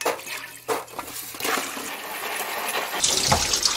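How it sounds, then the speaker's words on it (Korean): Running water splashing over a kilogram of small jujubes being rinsed in a bowl, a close, continuous gushing and sloshing with rustling of the fruit as it is stirred. "대추에 쌓여 있는 먼지들을 좀 깨끗하게 씻어 주겠습니다."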